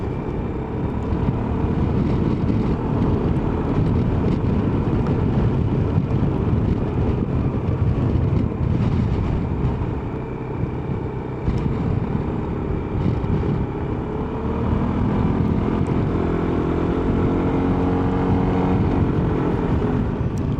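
A Yamaha Xmax scooter is ridden on the road in Phoenix, its engine hum buried under constant heavy wind rush across the microphone, with the drone shifting slightly as speed changes.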